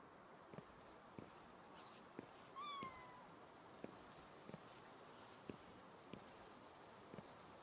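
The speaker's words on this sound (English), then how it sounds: "Wait, what was the cat noise?" A cat meows once with a short rising-falling call in Palworld, brief and fairly clear over a quiet game background with faint ticking footsteps.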